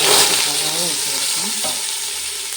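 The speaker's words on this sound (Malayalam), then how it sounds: "എണ്ണ ചൂടായി വന്നതിന് ശേഷം നമുക്ക് അതിലേക്ക് പെരിഞ്ചീരകം ഇട്ട് കൊടുക്കാം" Fennel seeds dropped into hot oil for chicken biryani sizzle loudly and continuously at close range, with a brief stirring scrape and no talking.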